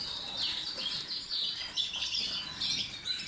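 Yorkshire canaries in a breeding room keep up a busy stream of high, bright chirps and trills, with many birds overlapping close by and no talking.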